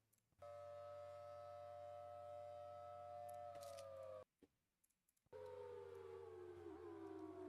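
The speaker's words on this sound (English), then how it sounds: "Looks like this Tory triggered the sirens in Pryor" A steady, wailing tornado warning siren in the storm-chasing video game Twisted drones on, cuts out briefly, then resumes with a slowly falling pitch, loud and continuous.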